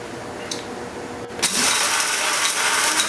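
A grinder starts up on ingredients for Korean rice wine (makgeolli), a small click and then a loud, steady whirring grind running close and continuous.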